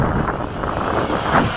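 An F-16 jet flying with its afterburner lit makes a steady, loud, broadband roar, heavy with wind rush, that fills the whole short stretch without a break.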